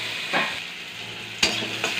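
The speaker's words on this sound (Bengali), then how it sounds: "হালকা লাল লাল করে ভেজে ফেলবো।" Chopped tomato and green chili fry in hot oil for baingan bharta, a steady sizzle broken by a couple of sharp stirring scrapes, close and without voices.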